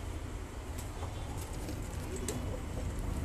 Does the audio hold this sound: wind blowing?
no